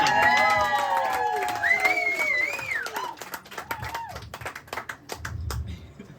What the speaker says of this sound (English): Give a round of applause to the co-workers in the audience.